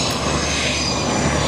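An F-18 Hornet jet roars past at an Air Force base airshow, a loud, steady broadband rumble and whine filling the air with no gaps, close and powerful throughout.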